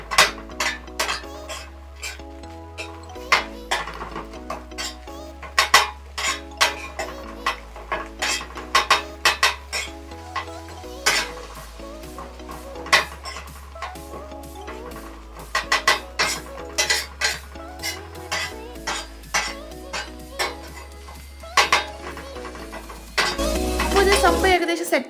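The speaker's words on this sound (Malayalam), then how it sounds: "നമുക്കിത് തട്ടുകടയിലൊക്കെ കാണുന്നവരെ നല്ലപോലെ കുത്തി എടുക്കണം. അത് നല്ല സ്പീഡിൽ ചെയ്യണം." Metal spatulas rapidly chop and clatter on a hot griddle while kothu parotta with chicken sizzles, a fast insistent rhythm of sharp clanks over steady frying, close and loud.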